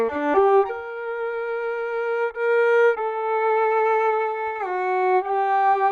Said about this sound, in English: here's the sound of just the contact mic